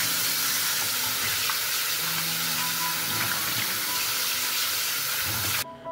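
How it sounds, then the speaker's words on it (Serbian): Freshly peeled potato rinsed under a running tap, a steady, close, hissing stream of water that runs unbroken for several seconds and then cuts off abruptly, with no one talking. "I ovako oljušten krompir odnosim sad da ga operem pod mlazom vode."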